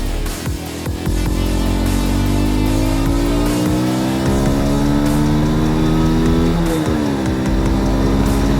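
A Yamaha Virago 125 motorcycle engine climbs hard through high revs on an open road, a loud continuous rising whine with a brief dip near the end as it shifts, then pulls up again.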